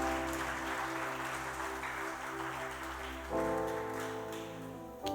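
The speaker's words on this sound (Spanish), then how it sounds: "Denle un aplauso a estos niños" A church congregation applauds children in a soft, continuous patter of clapping, partly masked by sustained instrumental music tones that shift midway through.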